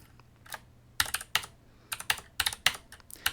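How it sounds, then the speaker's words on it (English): Keys on a computer keyboard tapped in quick irregular bursts of clicks, close and clear, with short pauses between runs and no speech. "let's type it out again"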